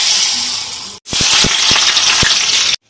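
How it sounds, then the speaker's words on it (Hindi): Onions frying in a pan, giving a loud, dense, close sizzle with several sharp knocks of a utensil against the pan, broken by a brief gap before cutting off abruptly. "ओनियन को पहले थोड़ा फ्राई करना है"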